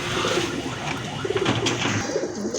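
Pigeons offered at a sale of local and foreign breeds, including grizzles and giribaz, coo in low, repeated throaty bursts close by, with a steady rustle and background noise throughout.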